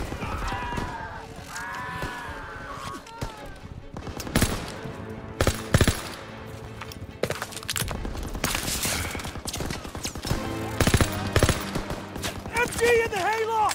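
Machine gun fire rattles in bursts across a Call of Duty WW2 D-Day battle, loud and repeated, mixed with scattered explosions, shouting voices and a horse's whinny.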